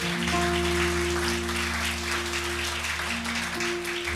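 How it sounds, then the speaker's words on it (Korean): Church congregation applauding during a sermon, a steady wash of many hands clapping over a sustained organ-like hum, moderately loud and continuous throughout. "우리 주님께 영광의 박수 올리겠습니다"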